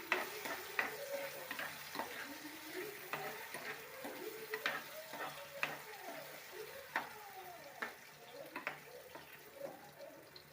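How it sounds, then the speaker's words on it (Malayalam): Mango curry is stirred as it fries in a pan: repeated soft scraping strokes of a spoon come at a steady, unhurried rhythm over a faint, continuous sizzle, close by and fairly quiet, with no talking. "ഒന്ന് ഇളക്കി കൊടുക്കാം"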